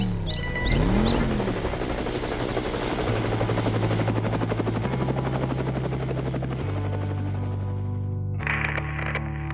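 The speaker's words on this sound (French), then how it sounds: "l'hélicoptère repart pour Genève" A helicopter's steady rotor thrum dominates, loud and continuous, with layered engine whine and a brief bright chirp near the start before the sound drops off.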